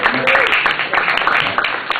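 Audience at a comedy open mic breaks into applause, a dense, steady wash of clapping mixed with crowd voices and cheers that holds for the whole moment.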